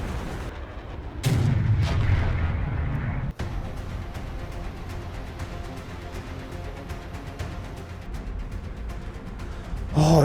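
Gunfire and explosions in a flight combat video game during a dogfight, a loud sustained roar of shooting with a sharp blast partway through and another burst at the end.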